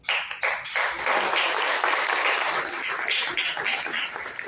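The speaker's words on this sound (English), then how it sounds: "please take some applause here real quick" A Rotary club assembly audience breaks into applause, starting with a few separate claps and swelling into a full, steady round of many hands.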